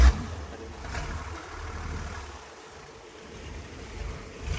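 Small tour boat motoring through open water near James Bond Island off Phuket, a steady low engine hum and wash of water and wind, moderately loud and continuous with no voices.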